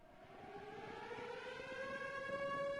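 A distant civil-defense-style siren slowly rising in a steady wail, faint but continuous, heard alongside a B-52 bomber emergency takeoff at an air force base.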